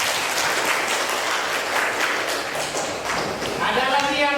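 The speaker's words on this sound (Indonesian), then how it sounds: "Ya, bagus, boleh kasih aplaus." Classroom audience applauding at a school teaching session, a dense patter of clapping from a group of people nearby, sustained throughout with voices mixed in underneath.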